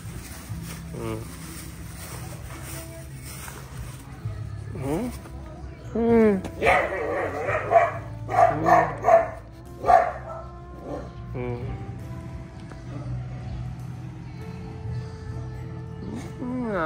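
Belgian shepherd puppies yip and bark outdoors on a street during their first outing, a short burst of several barks partway through, heard under ongoing talk by a man.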